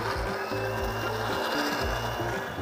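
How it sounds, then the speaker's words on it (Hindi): A kitchen grinder whirs steadily and loudly as it purees coriander, mint, green chilli, salt and a little water into chutney. The motor drones continuously, with a pulsing, churning texture close by. "और इसके बाद सिंपली इसको हमने पीस लेना है।"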